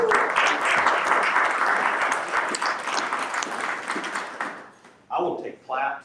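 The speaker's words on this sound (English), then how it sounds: "I will take claps all night long" A crowd applauds at the unveiling of Manistee's new town branding, a thick, close burst of clapping that fades over several seconds before a speaker's voice cuts in at the end.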